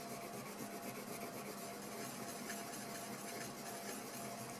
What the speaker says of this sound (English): Just gonna polish up a little more.